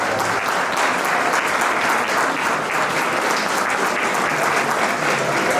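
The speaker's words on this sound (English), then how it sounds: "A huge round of applause for them" A hall full of delegates at a school Model United Nations closing ceremony applauds award winners, with dense, steady clapping that stays loud and even throughout.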